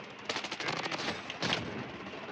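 Rapid bursts of VSS rifle gunfire from Bloodstrike Mobile, a quick stream of sharp shots followed by a second short burst, fairly loud and with no talking.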